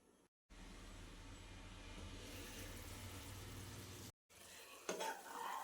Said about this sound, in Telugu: మధ్య మధ్యలో ఇలా కలుపుకుంటూ కుక్ చేసుకోవాలి.